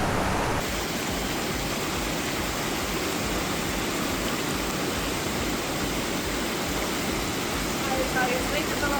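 Dense, steady rushing rain noise in Costa Rica fills the scene without pause, broad and hissing throughout.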